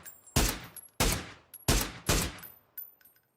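Four sharp, loud single gunshots with decaying tails, then a quieter fifth, spaced under a second apart in a battle royale shooter game. No talking.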